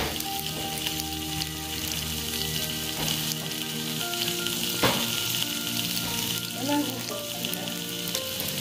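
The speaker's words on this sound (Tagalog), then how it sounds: "sizzling na." Korean kalbi short ribs sizzle and crackle steadily on a smokeless grill, a close continuous frying hiss with small pops and no talk.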